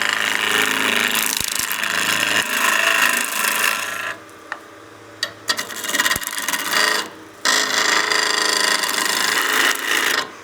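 Lathe tool making planing cuts on spinning wood for a snowman oil candle, a loud continuous rasping hiss with brief drops where the tool lifts off, then bites back in.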